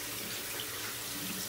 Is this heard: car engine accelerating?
no